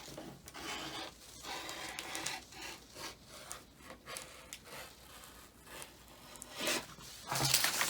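Scissors cut up the side of a knit dress fabric in a sewing class, a series of soft rasping snips and rubs close by, irregular and fairly quiet.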